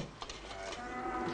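A cow lows in a short, steady moo close by, filling the whole moment with a sustained droning tone.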